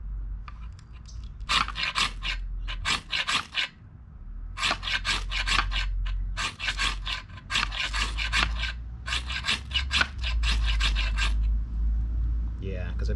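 A knife shaves thin curls from a stick of fatwood resin-rich pine, making close, dry rasping strokes in quick bursts, with short pauses between runs of strokes.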